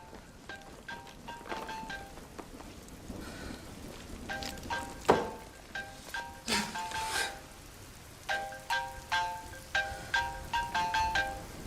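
A phone's melodic ringtone plays in repeated bursts of bright beeping notes at a moderate level, breaking off briefly and then starting up again in the same pattern.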